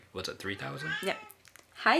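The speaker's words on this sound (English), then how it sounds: "That is our cat" A domestic cat lets out a single short, close meow at the very end, after people chat indoors.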